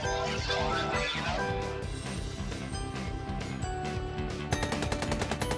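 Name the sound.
gunfire in SCP Doki Doki Anomaly video game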